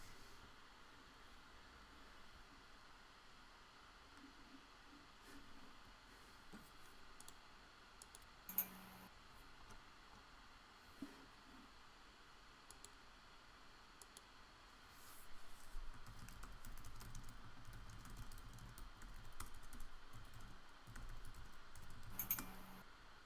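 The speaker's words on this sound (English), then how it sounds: "And Simon is typing something really long over there." Faint computer keyboard typing during an online Tak game, a long run of soft clicks and taps under steady background hiss, growing busier and louder toward the end, with no talk.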